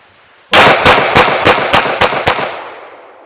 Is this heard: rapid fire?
yes